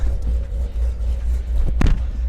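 A Corvette's engine idles with a low, steady rumble as the car creeps slowly back into storage, with a brief louder burst of noise near the end.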